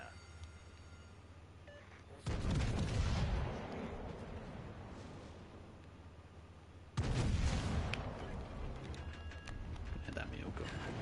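Heavy warship guns in World of Warships Legends fire in two loud booming salvos, each followed by a rolling, decaying rumble, with faint game background between them.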